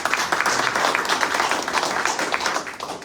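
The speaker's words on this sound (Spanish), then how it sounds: "Un fuerte aplauso, por favor." Audience applause fills a hall at a book presentation for a science chronicles volume, a dense, steady crackle of many hands clapping for about three seconds without pause.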